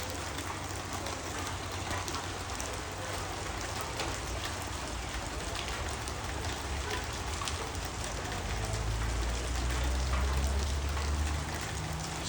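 Steady rain pours down outdoors near a house, a dense continuous hiss of drops on surfaces that swells slightly louder toward the end, with no voices.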